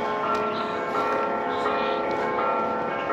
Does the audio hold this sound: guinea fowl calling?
no